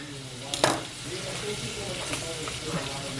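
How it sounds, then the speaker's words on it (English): Chopped garlic sizzles in oil in a pot, a steady close hiss broken by a sharp burst when it is stirred, while a person talks faintly in the background. "We're not going to saute it too long, just enough to bring out the flavors."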